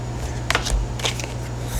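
Tarot cards are shuffled by hand in a couple of quick riffling bursts, close and crisp, over a low steady hum with no talk.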